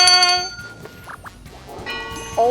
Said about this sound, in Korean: 이번에도 골든벨이 울렸습니다